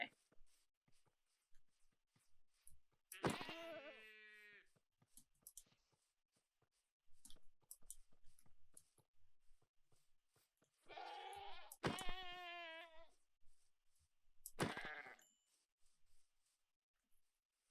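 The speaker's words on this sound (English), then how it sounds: "I don't know if it was either of those two that was the screaming goat." Screaming goat in the Minecraft video game letting out three loud, harsh bleats spaced several seconds apart, with quiet clicks and soft murmured talk in the gaps between cries.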